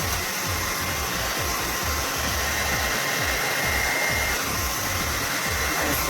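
A hair dryer blows hair dry with a steady, loud whooshing hum that never changes across the whole stretch, with no talking.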